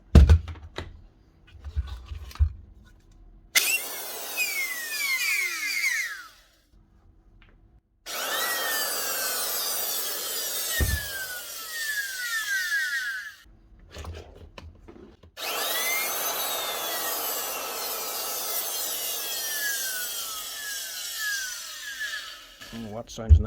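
An older Makita 6320 router runs in three separate bursts of loud, rough whine with gaps between them, and there is brief talk near the start.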